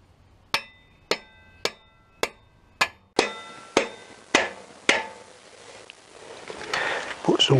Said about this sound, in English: There's no nut on there, so I'll just tap it through.